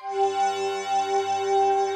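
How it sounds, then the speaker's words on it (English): Korg Volca FM playing its Glass Pad preset as a sequenced melody in a jungle drum-and-bass style, a steady sustained bell-like pad tone holding evenly for about two seconds with no voices. "I programmed that into the sequencer, and then it sounds like this."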